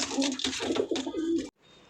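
A male pigeon held in the hand coos in a soft, throaty run of rolling notes for about a second and a half, close and clear, then stops.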